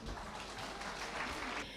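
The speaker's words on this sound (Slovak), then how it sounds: "A samozrejme, ako som spomenul, jeden veľký potlesk aj pre vás," Applause for the parents at a Christmas concert of a primary art school in Turany, a steady wash of many hands clapping throughout with murmured voices mixed in.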